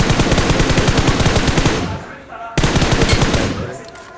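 Rapid automatic gunfire in a shooting video game, two loud sustained bursts of machine-gun shots with a brief break between them, close and dominant.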